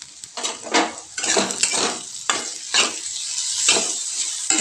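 Crushed green chillies being sautéed in a pan at home for aloo matar paratha filling, with a soft sizzle under repeated scraping stir strokes in an uneven rhythm, close and moderately loud.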